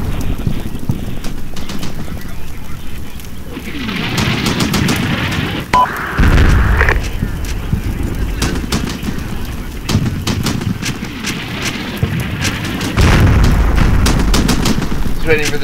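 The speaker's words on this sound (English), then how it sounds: "Waiting for this artillery to finish, and then we'll assault the barracks." Artillery bombardment in the war game Combat Mission: Shock Force, with loud rolling booms and bursts of gunfire over a steady roar of wind, broken by scattered sharp cracks and heavy low thuds.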